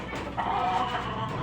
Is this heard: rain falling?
no